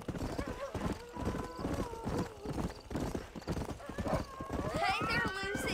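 Horse hooves clip-clop in a steady rhythm throughout in the Red Dead Redemption video game, with a whinny near the end and voices talking over the hoofbeats.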